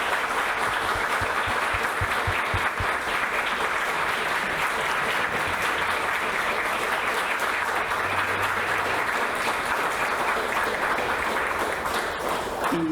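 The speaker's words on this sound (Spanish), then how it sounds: "no un aplauso, sino una ovación para este grupo de colaboradores" An audience at the presentation of a book on Guatemala's Political Constitution gives a long, sustained ovation, a dense, even roar of many hands clapping that holds steady throughout with almost no pauses.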